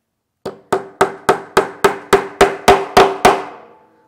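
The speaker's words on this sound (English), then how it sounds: "hammer off the second nail" Eleven quick, steady hammer strikes drive the second nail into a wooden lap desk, each crisp knock ringing slightly, close and loud with no talking.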